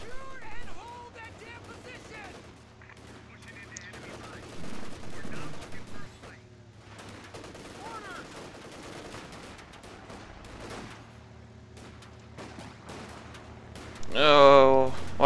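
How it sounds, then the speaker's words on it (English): Machine gun fire from the Company of Heroes video game rattles in bursts among other in-game battle sounds, while players talk over it. "Oh, it's an MG."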